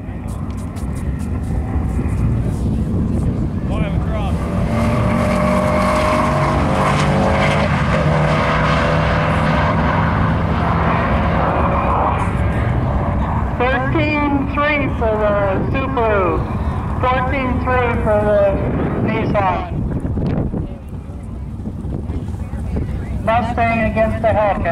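Nissan and BMW cars launching side by side at a drag strip, a loud sustained engine roar with wind buffeting, while a voice talks over it.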